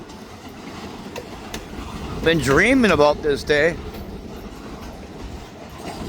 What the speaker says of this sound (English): who knew this train would be moving today?